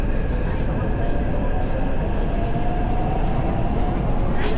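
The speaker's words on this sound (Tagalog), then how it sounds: "sakay na kami ng tren" A train carries passengers through Taipei on the way to a gondola, its steady low rumble and broadband rolling noise filling the whole stretch, with faint voices mixed underneath.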